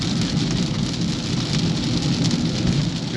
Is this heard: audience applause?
no